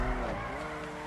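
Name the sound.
Grotti Stinger car drifting in video game GTA 5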